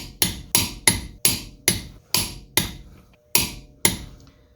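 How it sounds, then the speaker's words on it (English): A torque wrench clicks sharply while tightening car lug nuts in a cross pattern, nine crisp, evenly spaced metallic snaps, each ringing briefly before the next. "torque them down in a cross pattern to, like I said, 100 foot-pounds"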